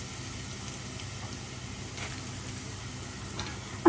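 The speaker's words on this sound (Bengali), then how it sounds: "এই ভাজা পেঁয়াজ বেরেস্তাটাই আমি এখানে দিয়ে দিব" Store-bought fried onion birista added to a hot pan for a quick egg korma: a soft, steady sizzle with faint crackles and occasional light ticks, close and low in level, without any talking.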